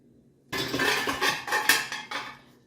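Dishes and cutlery clatter and clink as they are loaded into a Beko dishwasher, several close, bright knocks over about two seconds following a brief quiet start.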